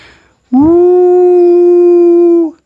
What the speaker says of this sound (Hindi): और सियारों के रोने की आवाज़ आ रही